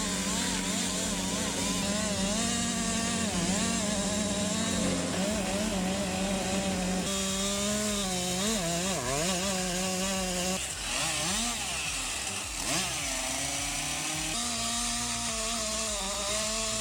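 Big chainsaw cutting through tree wood, its engine droning and shifting pitch as the load changes, heard at moderate distance throughout with some other sound mixed in.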